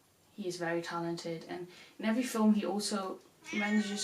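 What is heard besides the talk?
pet cat meowing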